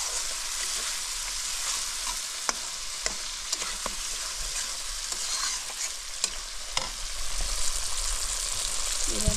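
Tuna fish pieces fry and sizzle in hot oil with spices in a pan, a constant hiss broken by occasional clicks as the fish is stirred and turned.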